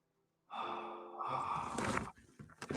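A person crawling in a cave breathes out, a long and close breathy exhale that starts suddenly after silence, rises into a rough, strained sigh and ends in short, uneven breaths and rustling.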